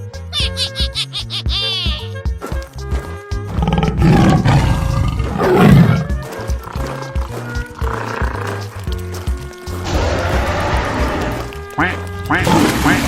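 Cartoon duck quacking in a rapid run of repeated quacks, loud and close, over bright animated background music with other cartoon animal effects.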